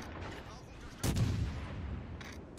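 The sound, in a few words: naval gunfire at the Yamato in World of Warships Legends video game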